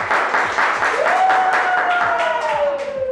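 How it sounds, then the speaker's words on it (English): A group claps and applauds in a comic classroom spelling scene, brisk dense clapping throughout, with a rising squeaky vocal tone riding over it near the middle. "clap for yourself"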